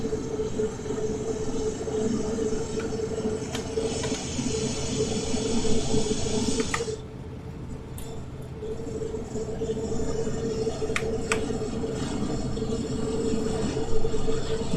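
Freight train in Train Sim World 3 on Cajon Pass in a snowstorm, four locomotives giving a steady low diesel rumble with rolling hiss and occasional clanks, continuous and fairly loud throughout.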